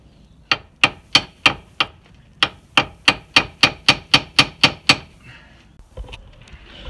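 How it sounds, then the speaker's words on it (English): A hammer tapping a tapered bolt on a VW T4 driveshaft, about sixteen sharp metallic knocks in a steady run of close, loud strikes with a short pause partway, then quieter handling sounds. "I was trying to tap it from the bottom with a hammer"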